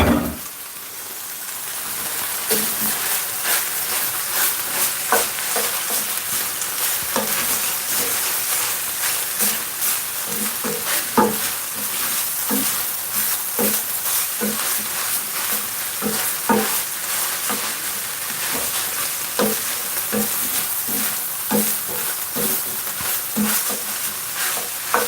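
Garlic and onion sizzle with ground beef in a hot pan for tacos, a loud continuous hiss broken by frequent scraping and stirring clicks as the mixture is worked, with no voices.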